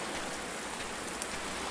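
Steady rain falling in the survival video game Under A New Sun, a dense continuous hiss of drops on surfaces, even and close, with no talking.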